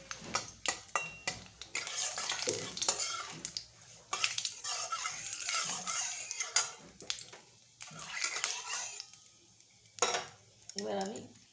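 Dried red chillies and bay leaves tempering in hot oil with black cumin, stirred with a utensil; irregular scraping and clinking over a soft sizzle, close and moderately loud, with no talk.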